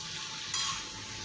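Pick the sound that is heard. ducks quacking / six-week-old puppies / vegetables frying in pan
vegetables frying in pan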